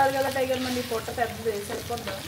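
About fifteen prawns sizzle in a frying pan, a steady close crackle of hot oil with light stirring scrapes throughout the short stretch.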